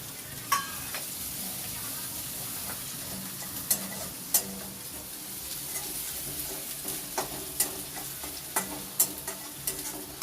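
Ginger paste and chopped garlic sauté in hot oil left from frying rohu fish, a steady crackling sizzle under repeated sharp taps and scrapes of a spatula stirring the pan, close by with no voices.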